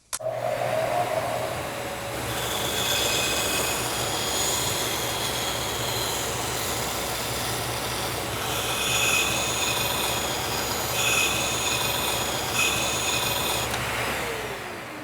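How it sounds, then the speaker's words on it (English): A bandsaw cutting wood for a stepstool, with a steady, loud whirring drone that runs the whole time, rises and falls a little as the blade works, and opens with a brief sharp start. "And now we can head to the bandsaw and start cutting."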